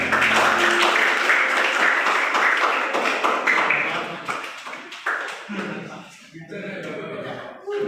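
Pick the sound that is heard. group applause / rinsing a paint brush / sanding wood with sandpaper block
group applause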